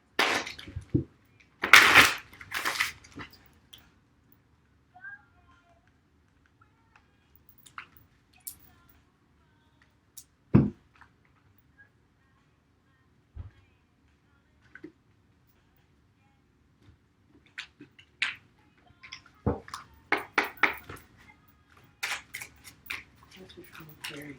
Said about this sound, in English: I still just like to shuffle a little bit on camera